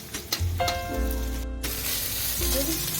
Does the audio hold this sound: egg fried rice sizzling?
yes